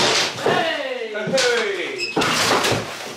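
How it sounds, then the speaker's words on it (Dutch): A small door on an old cabinet, over 100 years old, opens and shuts with creaking, gliding squeaks and a couple of sharp knocks, close by, with a voice speaking over it. "Deurtje open. Deurtje dicht."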